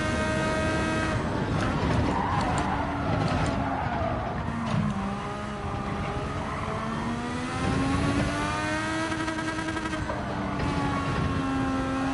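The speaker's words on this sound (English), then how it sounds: "So definitely revving it out down the straights." Race car engine in Gran Turismo 7, revving hard with a steady high whine that rises and falls through gear changes along a straight, loud and continuous, with occasional tire squeal.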